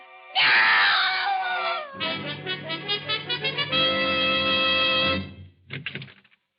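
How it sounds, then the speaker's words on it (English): A woman screams loudly and up close in an old radio mystery drama, one long piercing shriek that wavers into a sustained wail and then breaks off into short sobbing gasps. "I heard a scream."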